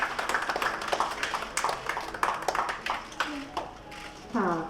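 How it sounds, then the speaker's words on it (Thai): Wedding guests applaud as the couple enters their engagement ceremony at the Mandarin Hotel: a run of uneven clapping under a woman host's speaking voice. "ปรบมือต่อเนื่องได้เลยนะคะ"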